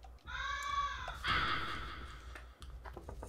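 Bird in the video game LISA giving two drawn-out raspy caws one after another, clear and fairly close, followed by quieter scattered clicks.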